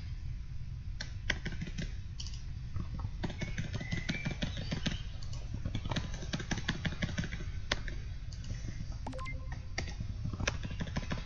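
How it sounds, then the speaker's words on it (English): Fast typing on a computer keyboard, a dense run of quick, sharp key clicks close to the microphone, continuing steadily over a low background hum. "I'm typing too fast"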